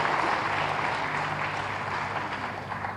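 Applause from the audience at a Tamil film audio launch, a dense, steady wash of clapping that stays loud for the whole stretch with no break.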